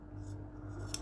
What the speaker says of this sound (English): Really the best way to do this is just to cut either side of that stitching